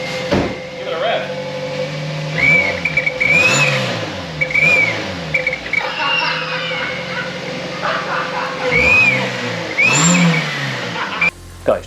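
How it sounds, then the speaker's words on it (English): A cheap used car being prepared for the Black Mountain Pass is revved repeatedly, its engine rising and falling in several distinct swells close by, with people talking intermittently around it. "Give it a rev."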